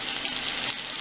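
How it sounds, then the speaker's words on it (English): Cabbage sizzling in butter in a pan, a soft steady frying crackle with small pops, faint and brief. "175 grams of cabbage frying up in about 30 grams of butter."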